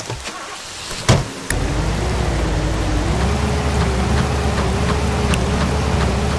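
A car in the video game F.O.T.O.G.R.A.F. strains to climb a hill, its engine a loud, steady whine that wavers slightly in pitch from about a second and a half, just after a short sharp knock.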